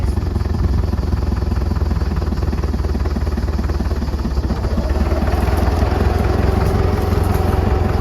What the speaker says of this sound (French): il a du mal à démarrer parce qu'il a plus d'essence